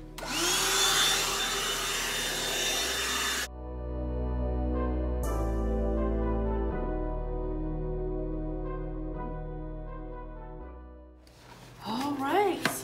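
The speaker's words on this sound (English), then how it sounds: "I actually have this new Black & Decker vacuum that I got for Christmas, and I am going to go in and vacuum in here." A Black & Decker vacuum cleaner working in an entry coat closet, its motor droning steadily with shifting pitch as it is switched and moved, starting and stopping between near-silent gaps.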